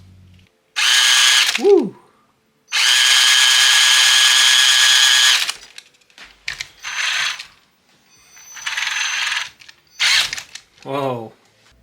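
An RC car's 80-turn brushed electric motor whirs in several loud bursts of differing length separated by pauses, close by, with a short exclamation from a voice.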